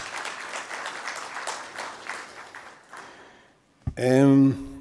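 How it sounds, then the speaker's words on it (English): Audience members at a media company investor briefing give a round of applause lasting about three seconds, a moderately loud, even patter that dies away before a sharp tonal sound breaks in. "a round of applause is appropriate"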